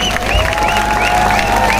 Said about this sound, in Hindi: मैं हमारे कायद समाजवादी पार्टी महाराष्ट्र मुंबई के सदर जनाब अबू आसिम आजमी साहब का जोरदार तालियों से इस्तकबाल करता हूं